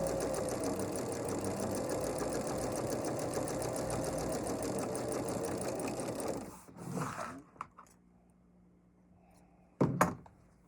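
A sewing machine runs steadily for about six seconds, stitching a quilt seam that joins the leaf pieces of an appliqué flower for a table runner, then stops, followed by a few soft handling thumps.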